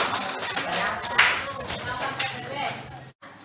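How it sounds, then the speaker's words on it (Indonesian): A classroom group of students claps together in a short burst of applause, uneven and close, with voices talking over it before it stops suddenly. "Tepuk tangan kelompok"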